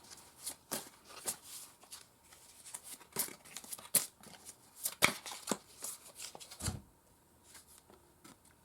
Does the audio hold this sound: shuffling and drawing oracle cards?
yes